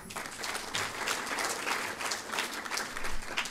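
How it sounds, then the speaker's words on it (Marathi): An audience claps steadily through a talk on education as the foundation of national development, a dense, even wash of hand claps at moderate distance with no voices over it. "तुम्ही टाळ्या वाजवायला चांगली गोष्ट आहे"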